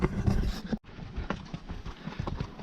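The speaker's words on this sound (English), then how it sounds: "This horse has got some pep in her step." Horse hooves clip-clop in quick, uneven beats as the horse runs during a race in the Monteverde cloud forest, fairly close and moderately loud, with a brief gap partway through.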